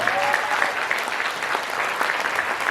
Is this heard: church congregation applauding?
yes